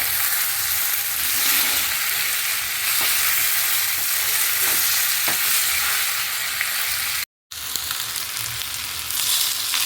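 Ragi kozhukatta fries in a pan on a gas stove, giving a loud, steady sizzle that runs throughout with one brief dropout near the end.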